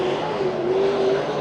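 Sport mod race cars run a heat race at Santa Maria Raceway, a loud steady engine roar with a rising tone as a car passes close by, no talk.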